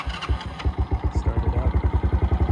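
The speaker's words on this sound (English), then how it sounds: "start it up." Small single-cylinder engine of a Baja 90 ATV starting up, catching after a brief crank and settling into a steady, rapid pulsing idle, close and loud with no talking.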